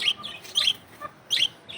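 Bright, high chirps from a bird repeat in short bursts, three main calls with quieter gaps between, close and fairly soft.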